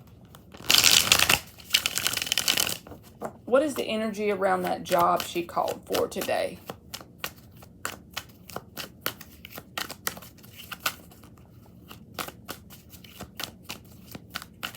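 Tarot cards are shuffled with a brisk riffle and then a long run of sharp, irregular card taps and slaps, close and crisp, while someone speaks briefly between shuffles.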